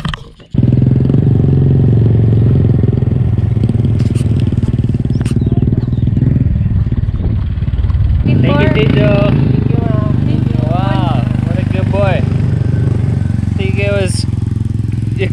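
A motorbike engine runs steadily, loud and close with a constant low drone, while people talk over it and the rumble shifts slightly as the bike moves.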